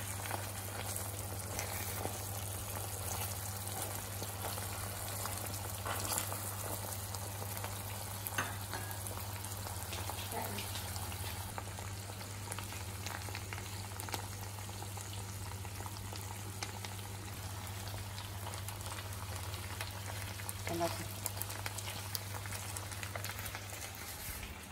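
Ayam percik chicken half-cooks in a cast iron skillet, a steady, quiet sizzle and bubbling with faint crackles that run throughout.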